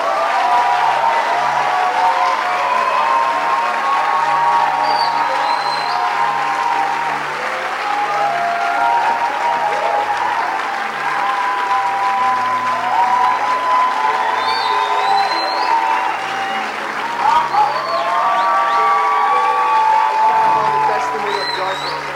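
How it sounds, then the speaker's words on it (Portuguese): An audience applauds to welcome a speaker at a church event, with steady sustained clapping and some cheering and whoops rising near the end. "E eu queria que vocês recebessem com uma salva de palmas Amy Ward."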